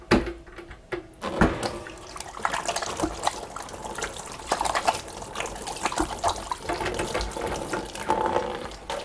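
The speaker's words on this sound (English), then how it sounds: "I'll just wash my hand." Hands being washed under a running tap, with splashing and a steady flow of water, close and fairly loud, after a brief quieter start.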